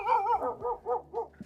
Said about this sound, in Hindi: और कुत्तों की भी आवाज़ें आ रही है भाई साहब।